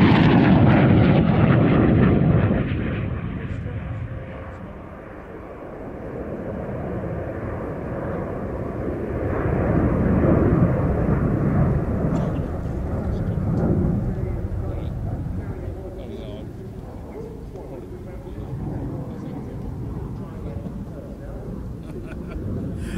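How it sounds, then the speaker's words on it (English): A Lockheed Martin F-35B fighter jet flying at the Royal International Air Tattoo air show roars loudly at first, then its thunder eases and swells again in waves as it passes, with a commentator's voice heard over it. "And right now, Lockheed Martin S-35B."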